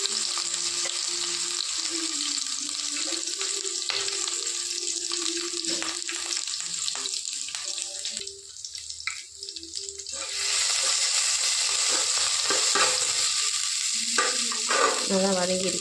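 Curry leaves and green chilies crackling and frying in hot oil in a pan, a steady close sizzle with spatters and stirring scrapes, briefly quieter in the middle before swelling loud again.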